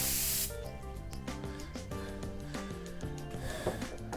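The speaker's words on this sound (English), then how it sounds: "I'm going to give the shell and anything else a quick spritz of air, just to get rid of any little Dremel flakes." A short, loud burst of compressed air is sprayed onto a Lionel model train shell to clear off Dremel flakes, then cuts off and leaves a quieter tonal background.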